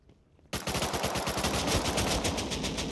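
A burst of rapid automatic gunfire in the survival video game Rust breaks a near-silence and runs on as a loud, dense stream of evenly spaced shots until the end.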